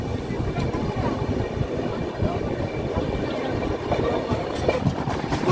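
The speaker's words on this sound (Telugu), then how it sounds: "మన ట్రైన్ గూడూరు జంక్షన్ నుండి అయితే బయలుదేరిపోయింది" A train pulls out of Gudur Junction with a steady, muffled rumble of wheels and carriages heard from inside, continuous and fairly quiet, without talk.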